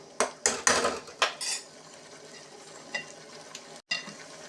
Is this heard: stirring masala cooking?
yes